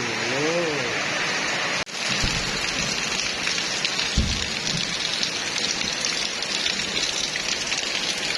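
Rain patters steadily on a surface close by, a constant crackling hiss with a brief dropout early on and a couple of faint bumps and low voices underneath.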